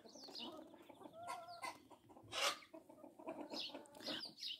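Nearby Jersey Giant rooster clucking and murmuring in a string of short, throaty calls, with a sharper squawk in the middle.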